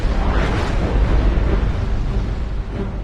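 Catastrophic volcanic eruption rendered as a continuous, loud, dense rumbling roar of blast and churning debris, sustained without letup for a few seconds with no voices.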